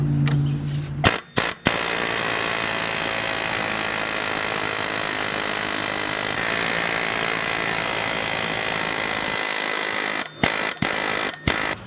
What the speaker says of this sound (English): I'm going to use an air hammer.